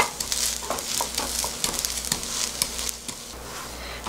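Rice browning in a pan into nurungji for a Korean chicken soup, giving a steady close sizzle and crackle throughout with a few stirring scrapes and no talk.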